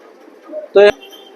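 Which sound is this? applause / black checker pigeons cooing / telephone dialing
black checker pigeons cooing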